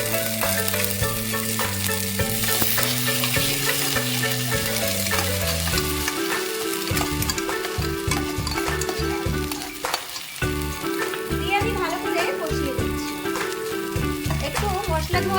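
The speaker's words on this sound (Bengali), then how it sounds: "ক্যাপসিকামের কুচি দিয়ে আমি ভাজা ভাজা করে এটাতে দিয়ে দিচ্ছি বাটা মশলা" Ground spice paste fries with chopped capsicum and tomato for an aloo-begun fish curry, a continuous loud sizzle with stirring beneath prominent background music.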